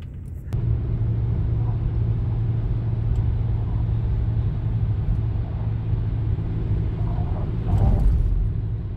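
A school bus engine idles with a steady, loud low rumble that starts abruptly and holds evenly, with a slight surge near the end; no one speaks over it.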